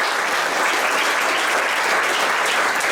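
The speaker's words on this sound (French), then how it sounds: "je vous propose qu'on les applaudisse encore une fois" An audience at a basketball team presentation gives thick, sustained applause, loud and even from start to finish with no talk over it.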